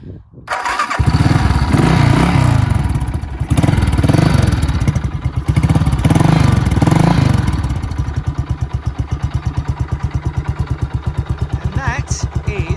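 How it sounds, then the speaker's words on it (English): A Harris Matchless G80 motorcycle is kicked into life and settles into a loud, steady thumping idle, its single-cylinder beat pulsing evenly close to the microphone with a brief revving surge early on. "Let's see if it starts."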